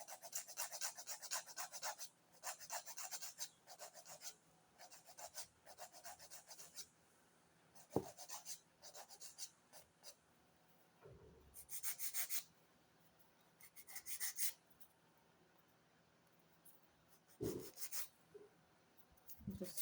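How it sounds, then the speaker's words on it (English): A nail file rasping across the tip of a fingernail during nail shaping, in short quiet scratchy strokes that come in bursts separated by pauses, close up with no talking. "Just this slight filing over the top because it's still going over it with the e-file."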